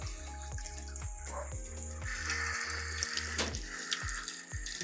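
Water runs steadily from a tap on a garden shower with a water heater column, a constant near splash with faint repeated clicks underneath and no talk.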